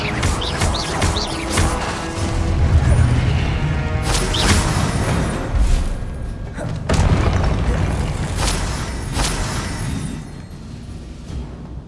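Confringo blasting spell explosions in Hogwarts Legacy, several heavy booming blasts with crashing debris, loud and close, set among constant game noise and effects.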